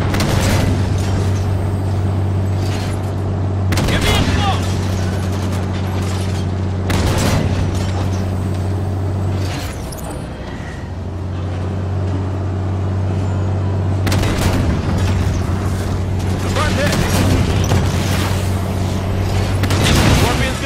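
Heavy gunfire and booming blasts in Halo 5: Guardians, repeated bursts of loud shots over a steady low engine-like drone, with a short lull midway before the firing resumes.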